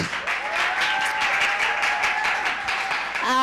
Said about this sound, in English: let's give a round of applause to Satrix, which is a financial institute